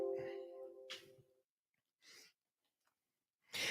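A recorded sneeze plays back through computer speakers, a sharp broadband burst following a stretch of talking, with two more short, similar bursts later amid otherwise quiet gaps.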